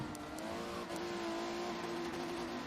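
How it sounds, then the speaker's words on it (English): A race car rounds the tower turn, its engine a rising and falling whine with a harmonic drone, fairly faint and distant as it passes, with no voices over it. "Here's America car"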